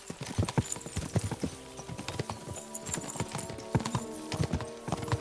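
Horse hooves in a video game, a fast irregular clip-clop of several galloping horses, close and loud, with thudding beats running throughout the clip and no speech.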